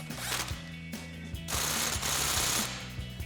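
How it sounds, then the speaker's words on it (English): A ratchet wrench with an 18mm socket tightens the factory nut on a Jeep Gladiator's steering stabilizer, giving a series of quick, evenly spaced mechanical clicks over a steady background hiss. "we can tighten that down with an 18mm socket"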